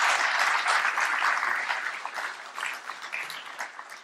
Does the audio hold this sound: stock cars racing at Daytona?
no